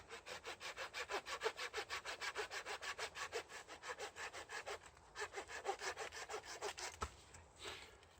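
A wooden stick is trimmed with a hand saw at a campfire, giving a steady run of rhythmic back-and-forth rasping strokes. After a brief pause the sawing resumes and then stops.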